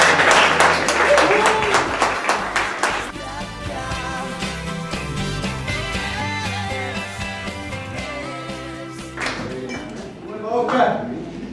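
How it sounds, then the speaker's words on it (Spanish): A live audience at an evening show in the Circo 056 venue, Puerto Canopus, claps loudly at first, then the clapping thins under music and a voice before a brief renewed burst near the end. "un gran aplauso"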